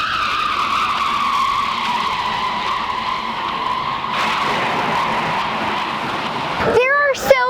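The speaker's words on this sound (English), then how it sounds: "these tires are moving the opposite direction and they squeak across the track to leave some rubber on the track" Drag car tires squeal loud and sustained across the drag strip, then break into short chirping squeaks near the end, with a car engine roaring underneath.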